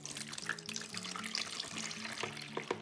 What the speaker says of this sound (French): maintenant on va la filtrer. Donc pour cela, j'ai pris un saladier ainsi qu'une passoire fine.